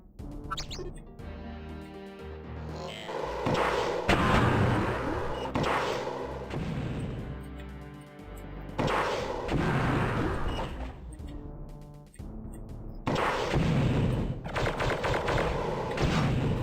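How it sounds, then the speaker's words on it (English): Sustained gunfire in the modded Siege of Avalon video game, with dense bursts of rapid automatic shots and booming blasts coming in loud waves with brief lulls between them. "Stop shooting at me!"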